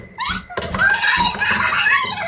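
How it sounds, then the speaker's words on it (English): A door is pushed shut with a solid thunk, followed by rattling and a rising, eerie tone in a Japanese ghost horror scene. "Oh, they've locked him in. Door's locked."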